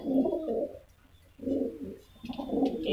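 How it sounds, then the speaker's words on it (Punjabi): Pigeons in a loft where birds nest on eggs, kept for a Dussehra pigeon-flying cup, coo in three close, throaty bursts separated by short pauses, with no talk. "ਇੱਕ ਤੁਹਾਨੂੰ ਯਾਲਦਾਰ ਕਬੂਤਰ ਦਿਖਾਉਂਦੇ ਹਾਂ ਜੀ ਇਹਨਾਂ ਦੇ ਵਿੱਚ।"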